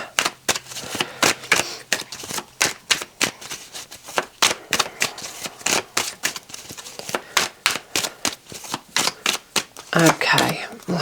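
Tarot cards being shuffled and moved around on a surface, with a steady run of crisp, rapid card flicks and slaps that goes on for several seconds, close and fairly loud.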